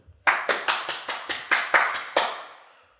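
Nine crisp, evenly spaced hand claps ring out close by in a quiet room, a lone person clapping in a steady rhythm, with the last clap fading into a short reverberant tail.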